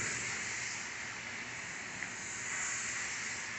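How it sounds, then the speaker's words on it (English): A Dupray NEAT steam cleaner sprays steam onto sofa fabric, a steady, faint, breathy hiss that holds with little change and no talking. "he's putting a lot of steam on there, the fabric dries really quickly"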